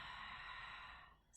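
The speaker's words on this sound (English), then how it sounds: "moving into your Ujjayi or ocean breath" Ujjayi ocean breath during a pregnancy yoga session, the throat gently constricted while breathing through the nose: one long, steady, soft hissing exhale that fades out near the end.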